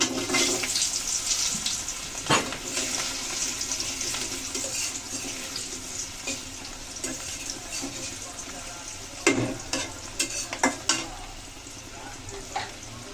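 Potatoes dropped into hot oil with fried tempering spices for a cabbage and fish-head dish, a loud steady sizzle with scraping stirs and occasional louder clunks of the spatula, close and continuous without speech.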